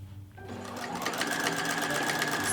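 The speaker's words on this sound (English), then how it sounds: "now it's time to sew the collar onto the capelet" A sewing machine stitches a fleece collar onto a capelet, starting after a brief pause and settling into a steady, close whirring hum that runs continuously to the end.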